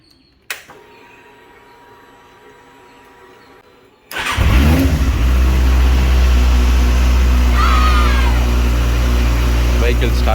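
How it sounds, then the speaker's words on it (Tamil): A motorbike with a freshly charged battery sits quiet, then its engine catches abruptly and runs loud and steady at close range. "வெஹிக்கிள் ஸ்டார்ட் ஆகிடுச்சு. பைக் ஸ்டார்ட்டில் இருக்குது."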